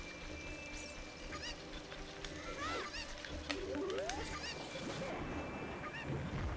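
A video game chicken in Zelda Ocarina of Time Master Quest squawks and clucks in a flurry of sharp, rising calls over game music and effects, loud and close.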